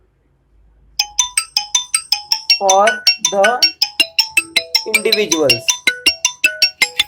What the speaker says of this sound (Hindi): कोई तो भी प्राणी है जो हमें फोन कर रहा है